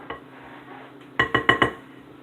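A metal 11 by 13 cake pan being handled, giving four quick, bright clanks in a row near the end after a quiet stretch with low background noise.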